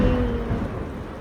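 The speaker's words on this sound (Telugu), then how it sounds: "బయట మంచి వర్షం." Heavy rain falls outside with a low rumble of thunder, a brief dense wash of sound heard alone.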